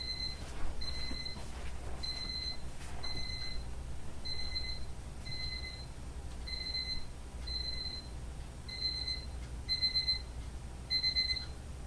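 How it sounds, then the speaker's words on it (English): A medicine reminder alarm beeps in steady, evenly spaced pairs of electronic tones, repeating about a dozen times over quiet room noise. "And of course my medicine alarm went off."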